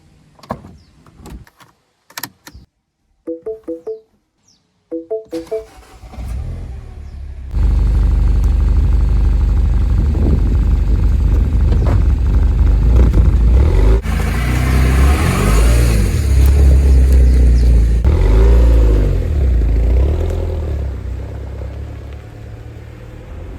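A rebuilt Mini John Cooper Works on its first test drive: a few clicks and door or window sounds, then the engine starts and runs loud and close, with revving and rising acceleration through the drive.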